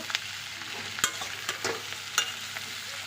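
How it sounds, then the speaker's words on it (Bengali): Malabar spinach stir-frying in a pan with salt, turmeric and cumin powder, giving a soft sizzle under a few sharp scraping clinks of the spatula, close and fairly quiet, with no voices. "এবার ভালো করে মশলাটা দিয়ে কষিয়ে নেব"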